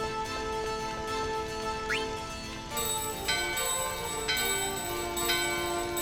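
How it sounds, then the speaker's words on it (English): A bell rung at a small door in Final Fantasy IX chimes clearly several times, bright ringing tones recurring at roughly one-second intervals over a steady in-game background of music. "use the bell on the small door to the right side."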